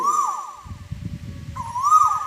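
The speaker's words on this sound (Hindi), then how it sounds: "और हमारे बगीचे में इस समय कोयल भी बोल रही है" An Asian koel calls in a garden with loud, clear, rising whistled notes, two repeated calls standing out close by over a low rumbling background.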